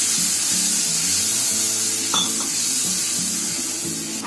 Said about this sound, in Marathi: आता थोडासा पाणी टाकते, कारण मसाले शिजायला पाहिजे म्हणून.